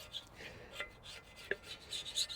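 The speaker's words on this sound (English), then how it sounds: "next we'll take a scraper. Just scrape off any RTV." A hand scraper rasps old RTV sealant off the rear differential cover of a 2015-2020 Ford F150, in faint, intermittent strokes with a few sharper scrapes.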